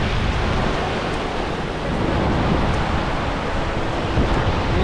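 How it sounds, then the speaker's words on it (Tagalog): Powerful ocean surf pounding the rocky shore at Punta Sur on Isla Mujeres, Mexico, a loud continuous roar of crashing waves mixed with wind buffeting the microphone. "Guys, napakalakas ng alon talaga."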